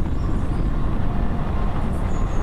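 A MEMU train passes close by with a steady rumbling roar, wheels rattling continuously over the rails for the whole brief stretch.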